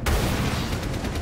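Rapid gunfire in the video game Rainbow Six Siege, a dense string of close, loud shots opening with a heavy burst and continuing as quick repeated cracks.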